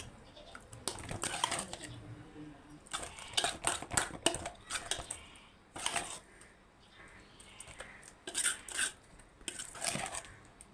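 Salt is stirred into mashed eggplant in a bowl with a spoon, producing irregular close scraping and clinking bursts separated by brief quiet gaps.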